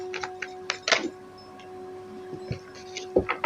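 Tarot cards being shuffled by hand in short riffling bursts, close and crisp, separated by pauses, with a steady electrical hum underneath.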